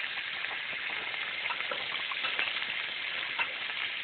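Chicken cooking in a Dutch oven gives a steady, even sizzle and crackle that stays at one level throughout, close up with no voices.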